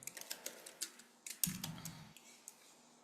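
Soft keystrokes on a computer keyboard, a run of close, quick taps with a short low thump in the middle, quiet and free of talk.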